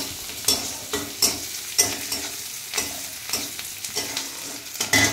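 Green and ripe chillies sizzle in hot oil while a spoon stirs them, with repeated scraping strokes roughly every half second over a steady frying crackle, close and alone.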